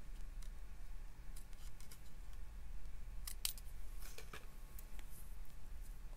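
Scissors fussy cutting paper in a craft setting make quiet, irregular snips and crisp clicks over a low background hum, with no talking.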